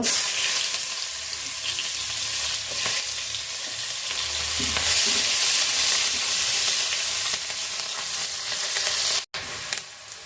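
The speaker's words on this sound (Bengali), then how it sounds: "মাছ ভাজার তেলে আমি তরকারি রান্না করব, পেঁয়াজটা দিয়ে দিব" Sliced onions hiss and sizzle loudly in hot oil left over from frying tilapia fish, a continuous crackling fry with occasional stirring, ending with a short clatter.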